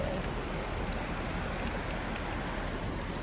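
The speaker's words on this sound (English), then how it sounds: "hot water coming out." Hot spring water pours out at Tsuchiyu Onsen in Japan with a steady, close rushing splash, broad and unbroken like a small stream, and no voices over it.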